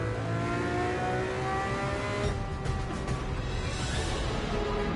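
A Lamborghini engine revs in the Gran Turismo 7 racing game, a loud, sustained rising and falling engine note with a brief dip midway, no voices.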